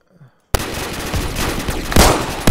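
Pistol gunfire in Roblox Phantom Forces, a rapid loud string of shots beginning abruptly after a brief quiet moment and continuing close up with heavier bursts near the end.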